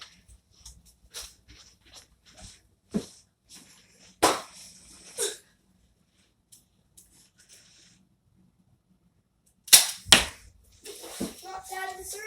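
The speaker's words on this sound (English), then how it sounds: "We're going to be doing 3 shots for each gun." A Nerf pistol fires with sharp, soft pops spaced apart by quiet gaps, recorded close in a room, with faint voices toward the end.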